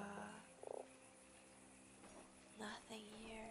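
A frog croaks in the game Fran Bow, giving a short blocky call near the start over a steady humming game ambience, followed by softer rustling sounds later.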